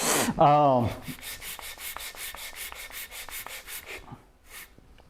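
A metal hand plane's sole is rubbed back and forth on abrasive to flatten it, giving a steady run of rhythmic scraping strokes after a brief loud start, close and fairly loud.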